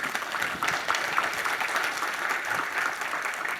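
Steady audience applause at a national fair housing conference, a dense, even wash of many hands clapping that holds at a moderate level throughout.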